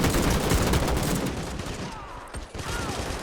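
Combat in the World War II strategy game Call to Arms, with dense overlapping gunfire and grenade blasts forming a loud, continuous roar that eases slightly in the second half, with voices faintly mixed in.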